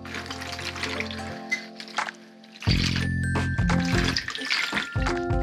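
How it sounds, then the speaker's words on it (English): Water pouring from a tap to rinse sand off a plaster beach sculpture, a steady running stream that stops briefly, then resumes louder with splashing and some clatter. "Rinse the extra sand off with some water."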